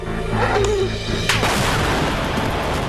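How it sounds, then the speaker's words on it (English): A deep, heavy boom bursts out suddenly, then rumbles and rolls on as a lingering low roar. "Big boom, big boom, big boom."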